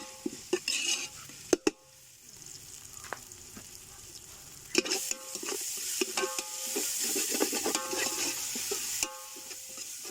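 Crushed ginger, garlic and green chili sizzle in a hot pan for kappa biriyani, a steady frying hiss broken by clanks and scrapes of a spoon stirring against metal.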